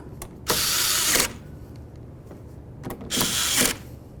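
A ratchet or power driver snugs latch bolts on a 2008-2012 Jeep Liberty door, in two loud, close buzzing bursts of about a second each with quiet between, no voices.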